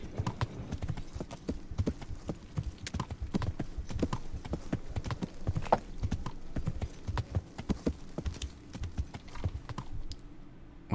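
Horse hooves clip-clop in a medieval open-world video game, Kingdom Come: Deliverance, in a steady trotting rhythm that holds for the whole stretch, with faint keyboard-like taps in the background.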